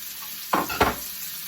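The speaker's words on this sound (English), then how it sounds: "I have 1 whole onion up in here frying." Steady sizzling hiss of a whole onion frying in a pan, broken by two brief louder scraping bursts like a stir, with no talking.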